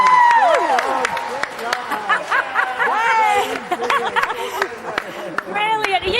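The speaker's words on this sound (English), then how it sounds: "come on, we're clapping." Celebratory clapping and whoops from a small group at an energetic gathering, loud and close, mixed with laughter, chatter and excited voices throughout.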